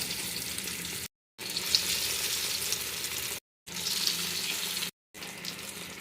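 Elephant foot yam pieces fry in hot oil over a low flame, giving a dense, close, hissing sizzle that runs in three long stretches separated by short silent gaps, with no voices.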